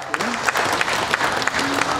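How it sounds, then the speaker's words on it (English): Audience applause at a Jersey heifer class of a summer cattle show in Ontario, a steady crowd of clapping hands filling the hall, fairly close, with faint voices underneath. "Let's give these guys a round of applause."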